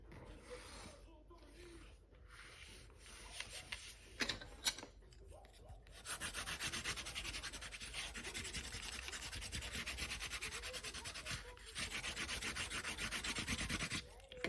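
A fingertip smooths glue along the edges of a paper pop-up card, giving soft scattered rubbing and scraping strokes up close that grow into a steadier, denser rasping in the second half.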